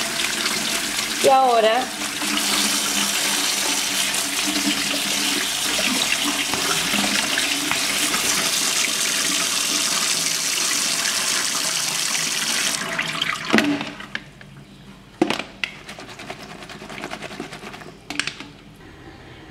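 A kitchen tap runs hard over diced, salted eggplant being rinsed for pickling in escabeche, a loud steady stream that stops after about thirteen seconds, followed by brief speech and a few handling knocks.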